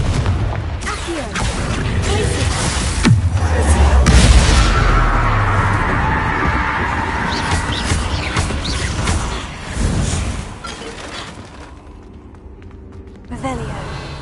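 Confringo blasting-spell explosions in Hogwarts Legacy, a loud sustained boom and burst that swell and roll across the fight, with a second sharp blast later, mixed with game sounds and gasps.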